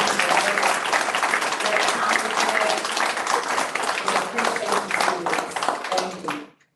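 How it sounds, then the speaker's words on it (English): Applause for students at a school board of education meeting, a roomful of people clapping steadily and loudly for several seconds before it quickly dies away, with some voices underneath. "let's give all our students a hand clap for everything that they have done"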